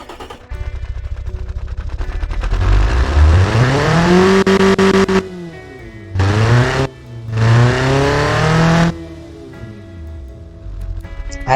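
A truck engine designed in the car-building game Automation revs hard in long rising and falling sweeps. It idles briefly and then climbs again in two more surges, loud and close, with no talking over it.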